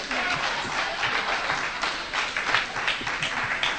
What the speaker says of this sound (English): We all do this, and we all applaud,